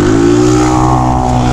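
A small motorcycle with a holed exhaust and a new carburetor revs steadily, a loud, close, raspy engine drone with rising harmonic tones, no speech over it.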